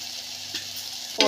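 Tomato paste with turmeric and asafoetida stirred into hot oil for rasam, giving a soft steady sizzle with a brief scrape midway and a louder burst of frying right at the end.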